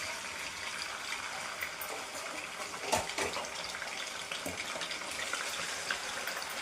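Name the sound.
pre-fried boneless chicken added to hot oil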